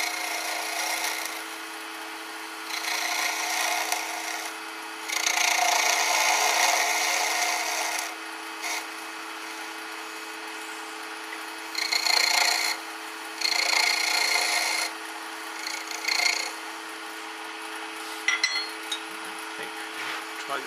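Bursts of scraping as a carving tool smooths off the point of a carved wooden icicle, short rasping strokes in several separate runs with quiet gaps between, close and fairly soft.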